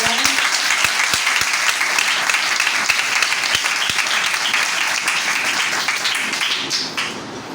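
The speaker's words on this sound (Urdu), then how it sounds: "زوردار تالیاں جتا خدا کے لیے بجائیں" Loud, dense applause from a church congregation at a Pakistani Christian service in Lahore, a close roar of clapping with a few sharp claps standing out, fading slightly at the end.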